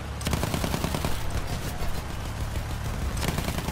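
Sustained automatic gunfire in the video game Battlefield 1, loud and dense rapid bursts with heavy low booms, continuous throughout.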